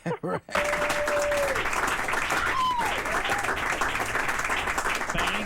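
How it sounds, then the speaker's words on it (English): Stand-up comedy audience applauding a first-time comedian, a broad, steady wash of clapping following a brief voice at the start, with faint whistles and cheers mixed in. "That was so sweet of you to give me that applause."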